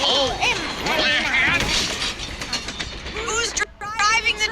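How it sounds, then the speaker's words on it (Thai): A train running on rails rumbles with a steady, loud clatter under overlapping voices, with squealing tones and a brief drop to near silence before the noise returns. "We need to slow this train down."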